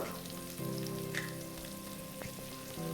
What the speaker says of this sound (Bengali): এই সিদ্ধ করা আলুগুলোকে আমি এখন হলুদ আর লবণ দিয়ে ভালো করে ভেজে নেব